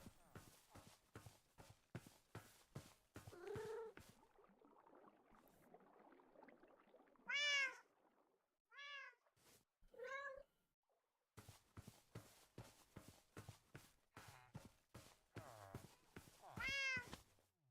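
A cat in the Minecraft video game meows several times, short rising-and-falling cries popping up amid steady rhythmic block footsteps, with quieter stretches in between.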